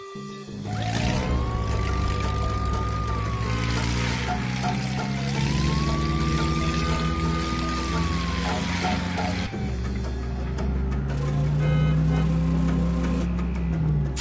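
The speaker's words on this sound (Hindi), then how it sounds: "बाबा गाड़ी का सायरन सुनकर बाहर आता है।" A vehicle siren sounds in an animated Hindi story set in a jungle. It wails in two slow rising-and-falling sweeps over a steady engine-like hum, then cuts off and gives way to other background sounds.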